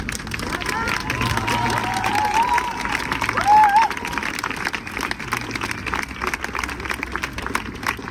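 A crowd at a street rally in support of Gisèle Pélicot and rape victims claps and cheers, a broad, steady roar of applause with a couple of short whistles and murmured voices mixed in.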